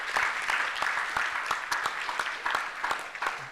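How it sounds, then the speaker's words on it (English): An audience applauds at a 2024 STIAS book launch, a steady patter of many hands clapping at moderate loudness for a few seconds with no one speaking. "A round of applause for"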